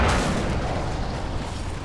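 An RPG rocket explodes among zombies in Garry's Mod, a loud, deep blast that rumbles on for the full two seconds with no voices over it.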